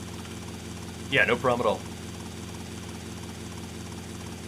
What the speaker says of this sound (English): This is our helicopter, and this is going to help us get around so much quicker.